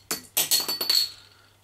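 Hogs Back TEA bitter beer is poured from a bottle into a glass, giving four quick glassy splashing glugs with a faint ringing tone, close and fairly loud, then a short fizzy tail.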